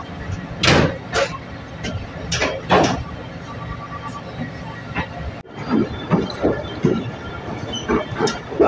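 The Shalimar Express rolls slowly at about 15 km/h past a bridge under construction, with intermittent clanks and rumbling wheel noise on the rails, close and moderately loud, and a sharp metallic bang midway.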